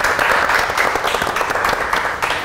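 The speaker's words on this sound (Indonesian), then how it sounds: "Boleh minta tepuk tangan hari ini" Applause from an audience at a Yogyakarta podcast event, a dense burst of clapping that stays loud and even throughout, with no talk over it.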